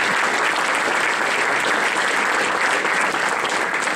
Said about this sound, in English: That probably deserves a round of applause.